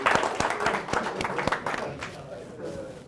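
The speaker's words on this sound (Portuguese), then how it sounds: "Uma salva de palmas para todos," A round of clapping from an audience at a talk on hypnosis and stage magic, with distinct loud claps at first that thin into a softer, fading patter of scattered hands.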